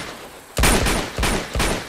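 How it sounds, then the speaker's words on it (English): Gunfire in the video game Uncharted 2: Among Thieves, three sharp bursts of shots in quick succession after a quieter lead-in. "You know when gunshots are being fired."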